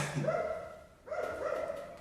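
A small dog gives two drawn-out, whiny yips or barks, close by and fairly quiet, separated by a brief pause.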